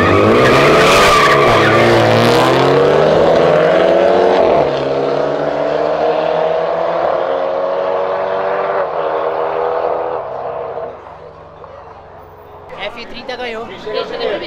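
A BMW 320 in a street race, reportedly Stage 2 tuned, roars loudly with rising engine revs and tire skid, fading somewhat toward the end as a voice speaks over it.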